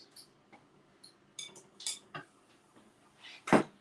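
A whisk that is too big for its dish stirs cream cheese and double cream, giving scattered light clinks and scrapes against the dish, sparse and close.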